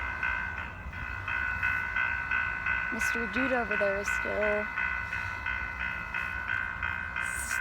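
A train rumbles past steadily with a sustained horn-like tone, while someone speaks briefly in the middle.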